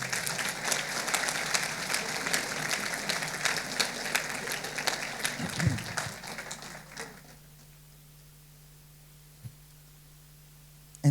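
A church congregation bursts into loud, dense applause that holds steady for several seconds, then fades out quickly, leaving a quiet hum with a single soft knock near the end.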